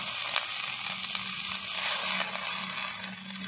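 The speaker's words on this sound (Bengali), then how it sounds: "এবার দিয়ে দেবো ধুয়ে রাখা শাক। শাক আমি কুচাইনি, আমি এইভাবেই দিয়ে দেবো।" Washed betho saag greens frying in hot oil give a dense, continuous sizzle and crackle, steady and close, with faint stirring noises and no talking.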